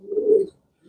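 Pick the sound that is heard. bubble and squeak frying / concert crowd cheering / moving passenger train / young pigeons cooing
young pigeons cooing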